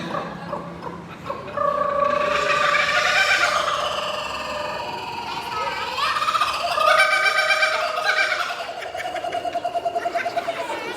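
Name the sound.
person imitating a chicken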